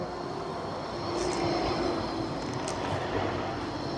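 An electric tram running on overhead wires passes by, a steady low rumble and rolling hum with brief higher squeals, fairly close and continuous throughout.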